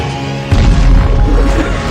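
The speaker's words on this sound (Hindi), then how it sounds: "तीर में मौजूद काला पाउडर से जोर का धमाका हुआ" A film explosion from black-powder-tipped arrows bursts in with a loud deep boom about halfway through, followed by a sustained rumbling crash and debris over dramatic background music.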